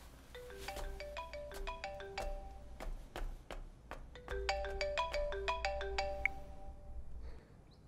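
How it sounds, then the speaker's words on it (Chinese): A telephone rings with a repeating electronic melodic ringtone in a home during a meal, bursts of bright chiming notes with short pauses between them that stop near the end, and no voices. "我去接个电话。"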